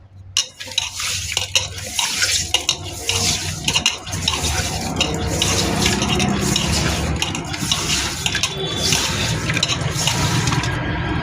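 Tap water runs into a bowl while raw prawns are washed by hand, a steady close splashing rush with occasional clinks and sloshes, growing fuller and more constant after the first few seconds.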